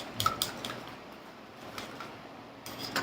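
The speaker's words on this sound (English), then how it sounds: "Give it a nice stir." A spoon stirs a honey and coffee mixture in a small bowl, giving a few light clinks and scrapes near the start and again at the end, quiet and close with faint background hiss.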